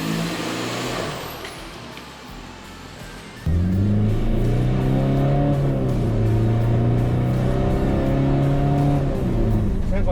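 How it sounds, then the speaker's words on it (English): A Hyundai iLoad turbo diesel van fitted with a K&N filter, catch can and aftermarket exhaust idles quietly, then starts abruptly and drones loudly, the engine note rising and falling as it revs, with voices talking over it. "Sounds like a beat up Golf with an exhaust now"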